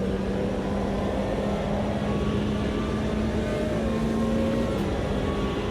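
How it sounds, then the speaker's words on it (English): A Formula car engine in a racing video game, a steady high droning whine with a sustained tone shifting slightly in pitch, continuous and fairly loud, with no voices over it. "Oh, listen to that Formula car"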